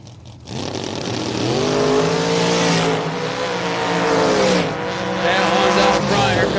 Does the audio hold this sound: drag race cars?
yes